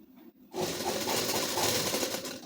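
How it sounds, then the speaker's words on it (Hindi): A sewing machine stitches slippery ladies suit fabric, starting after a brief quiet moment and then running as a steady, continuous close whir with a fine rapid needle rattle throughout. "ऐसे कपड़े को पकड़ के इस पर सिलाई चलाएंगे।"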